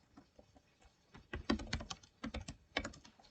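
Quick bursts of keys clatter on a computer keyboard as a short commit message is typed for a Git repository, near and alone, with a dense flurry in the middle and a final cluster of taps.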